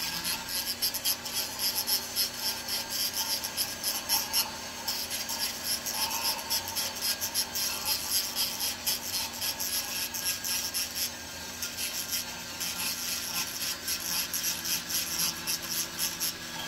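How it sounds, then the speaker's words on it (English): A file rasps over the top of a metal ring being smoothed, producing a continuous, close, steady scratching texture with regular strokes throughout. "Still filing down here. We're going to smooth out the top a little bit more."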